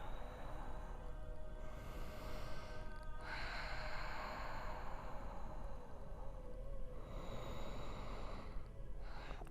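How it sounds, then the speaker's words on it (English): Slow, deep breathing during a downward-facing yoga pose, two long audible inhales and exhales heard close and alone over a steady soft room hum. "2 deep breaths here"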